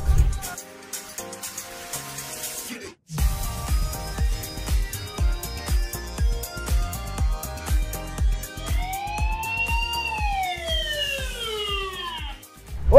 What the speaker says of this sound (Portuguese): a câmera Wi-Fi dupla que possui essa sirene de alerta